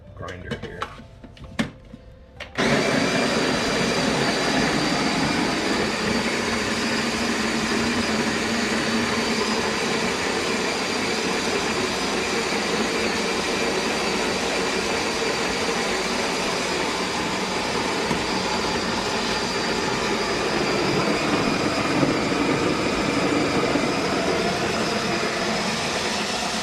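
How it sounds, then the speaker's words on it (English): An OXO burr grinder grinding coffee beans at a medium setting, a steady loud whirring drone that starts abruptly after a couple of seconds of quieter handling and runs unbroken to the end. "It's just a sort of medium grind on my OXO grinder here."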